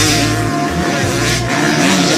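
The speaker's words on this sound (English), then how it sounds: "Hearing a two-stroke surrounded by trees" Two-stroke dirt bike engine running among trees, loud and close, with its revs rising and falling in short bursts over a constant rough buzz.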